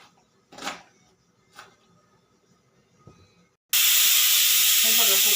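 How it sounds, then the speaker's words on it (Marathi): A pressure cooker whistle bursts out loud and close, a sudden sustained hissing blast of released steam that cuts in after a few scattered knocks and quiet kitchen sounds and continues to the end. "आता छानपैकी कुकरची शिट्टी झालेली आहे"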